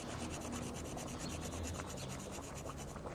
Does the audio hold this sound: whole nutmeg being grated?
yes